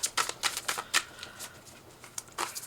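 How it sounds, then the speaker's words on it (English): Tarot cards are shuffled close up in a quick series of crisp riffling bursts, rapid fluttering slaps separated by short pauses. "So I'm shuffling for the concluding message for the Cancer Collective."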